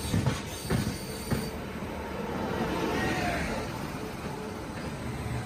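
Indian Railways Paschim Express train at a Delhi station, a steady rolling rumble of railcars with faint wheel squeal and a few sharp clanks early on, moderately loud and continuous throughout.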